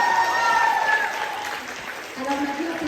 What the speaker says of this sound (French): On applaudit Grace.